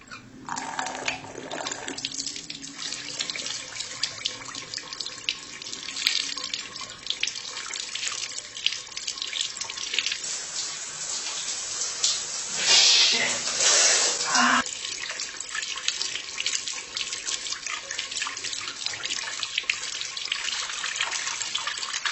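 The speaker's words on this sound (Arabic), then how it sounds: "خل اغسل هاي الطماطيه" Kitchen tap running as tomatoes are washed under it, a steady close hiss of water with splashy surges from hands and produce, louder in the middle stretch, while someone talks over it.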